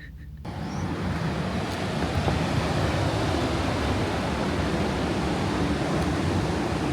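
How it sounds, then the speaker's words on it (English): Atlantic Ocean surf rolls in at Daytona Beach as a broad, continuous wash of breaking waves, steady and fairly loud, heard from a balcony without any voices. "I would love to just hang out on the balcony and listen to the waves"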